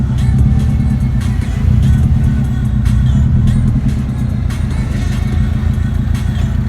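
Subaru Impreza GC8 on a test drive after a MAP sensor replacement, heard from inside as a loud, steady engine drone and road rumble with light rattles throughout, no talking.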